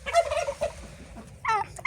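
A gander and two geese honk and cackle close by in a few short harsh calls, a pause, then another burst.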